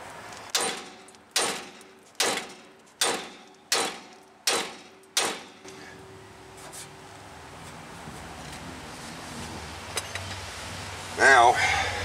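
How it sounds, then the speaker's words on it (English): Seven sharp, evenly spaced metallic hammer blows ring out up close while a lower ball joint is driven during a Trailblazer front suspension repair, then fade into quieter workshop sounds. "nailing it straight down seems to be doing the job."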